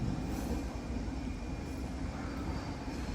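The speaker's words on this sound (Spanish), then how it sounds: "Estos trenes son vetustos, anticuados en aspecto y mecánica, pero suaves y cómodos como un tren moderno" An old Soviet-era metro train runs along line 4, giving a steady, continuous low rumble and rolling noise close by, with no talk over it.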